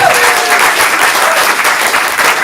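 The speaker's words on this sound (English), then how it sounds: "Give a Kevin a round of applause." A stand-up comedy crowd in Portland gives a comedian a round of applause, with loud, dense clapping sustained evenly from start to finish.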